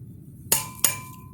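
Matco torque wrench set to 100 foot-pounds on a Lexus gives two sharp, metallic clicks about a third of a second apart, close and crisp against a quiet background.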